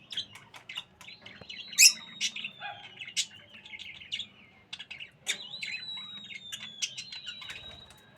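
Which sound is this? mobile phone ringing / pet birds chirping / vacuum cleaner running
pet birds chirping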